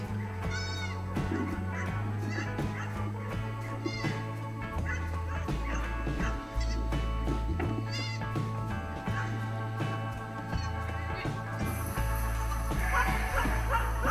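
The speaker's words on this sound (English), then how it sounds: "Now she's going to the sheep. Actually, it's a ram." A ram bleating on an outing, several short wavering bleats over a strong, steady low tonal background that shifts pitch in blocks, fairly loud and with no talk.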